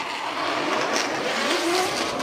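Formula Drift Japan race cars initiating a tandem drift, engines revving hard with squealing tires, a loud, continuous roar heard from trackside.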